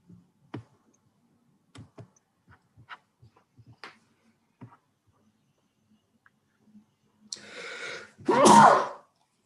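A single loud, close sneeze during an online webinar, coming after a stretch of faint scattered clicks and quiet background sounds.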